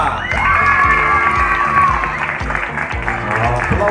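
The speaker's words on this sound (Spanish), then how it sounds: "Aplausos para el nicaragüense Giancarlos Sosa." A crowd at a Central American athletics championship applauds and cheers a heptathlon champion, with loud, continuous clapping mixed with whoops and shouting voices, some of them children's.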